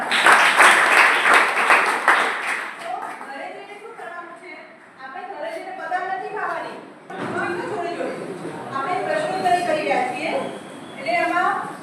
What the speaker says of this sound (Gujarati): ભાઈ એક તાળી પાડો બરાબર